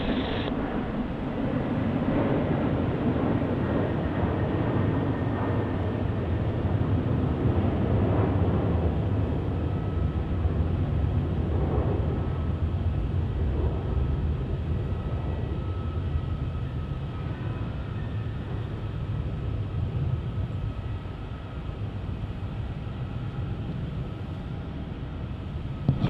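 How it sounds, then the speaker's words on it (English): A Qantas Airbus A330-200 takes off from Melbourne Airport, its steady, broad jet engine roar holding loud and constant throughout as it powers down the runway and climbs away, with no talking. "There it goes, QF69 off to Delhi in the A330-200 for Qantas."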